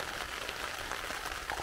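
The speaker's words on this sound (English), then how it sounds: "As you can hear, it's raining." Steady rain falling outdoors on Dartmoor in the early morning, a continuous close patter and hiss with no talk.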